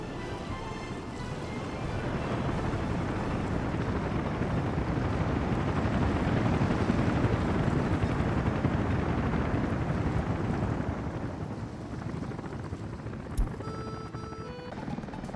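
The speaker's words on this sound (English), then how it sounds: "The helicopters." Helicopters flying in the city-building game Workers & Resources: Soviet Republic: a steady, dense rotor rumble and whooshing drone that swells and holds, then fades near the end as a brief clink sounds.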